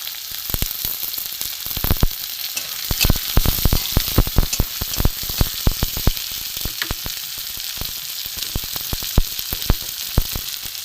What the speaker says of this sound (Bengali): এখানে রসুনটা ভাজা ভাজা হয়ে গেছে, এখানে আমি এতে পেঁয়াজ দিয়ে দেবো।